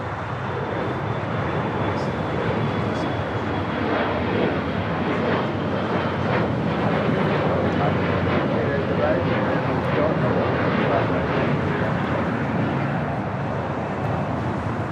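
A United Express Embraer E175 takes off from LAX, a steady broad engine roar sustained throughout at moderate distance, with faint radio chatter mixed in.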